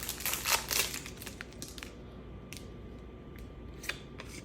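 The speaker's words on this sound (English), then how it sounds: "we're opening one of the 16 card packs" A 16-card trading card pack being opened at a small home setup: a loud crinkling tear of foil wrapper at first, then quieter rustles and light crinkles of cards being handled, close by.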